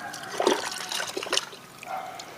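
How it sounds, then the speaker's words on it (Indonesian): Rice flour fertilizer water is poured onto an avocado plant in a polybag, making a short, close splashing trickle that swells and then eases off. "Saya akan gunakan untuk menyiram tanaman alpukat saya sahabat."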